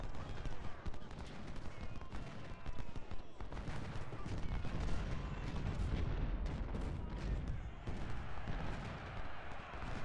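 A Civil War artillery battery fires in Ultimate General: Civil War, with repeated booming cannon shots and scattered musket fire rumbling through a busy battle soundscape, a voice occasionally talking over it.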